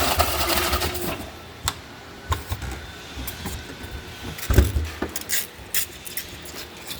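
An Eagle T200L carton sealer runs an empty carton through, making a mechanical whir with clacks, thumps and a few sharp taps.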